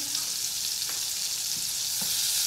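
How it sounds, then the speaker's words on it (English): Lard and butter sizzle steadily in a hot pan while being stirred, a continuous bright hiss with a few faint scrapes of the utensil underneath, close and even throughout. "just mix the lard and the butter"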